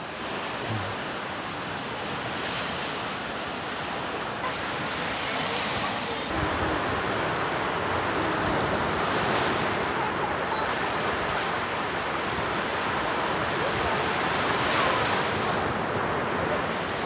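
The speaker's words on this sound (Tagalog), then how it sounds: "Ayun na, yan na yung alon." Ocean surf washes steadily onto a beach on a holiday in the Philippines, a continuous broad roar of breaking waves with slight swells and some wind buffeting, no talk.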